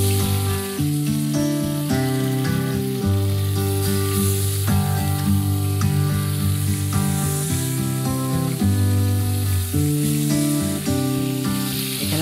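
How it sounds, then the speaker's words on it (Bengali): Koi fish frying in hot coconut oil gives off a steady, close sizzle that runs the whole time beneath a loud bed of melodic background music. "এখন আমরা মাছটা, যেহেতু তেলটা গরম হয়ে গেছে, এখানে আমরা মাছটাকে ফ্রাই করে ফেলি।"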